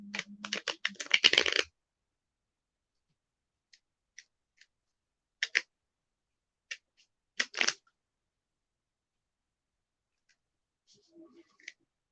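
A burst of rapid riffling as playing cards are shuffled, followed by scattered light clicks and taps of the deck amid near silence.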